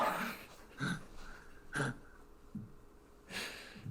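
A pet dog nearby makes several short, sharp snorts and breathy huffs at irregular intervals, faint against a quiet indoor background.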